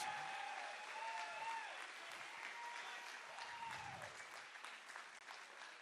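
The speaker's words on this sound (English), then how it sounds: "let's give a round of applause to both of these fighters" Fight crowd applauds both fighters before the judges' scorecards, a steady wash of clapping and cheering heard at a distance through a broadcast, with faint voices in it.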